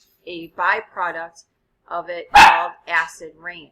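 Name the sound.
dog barking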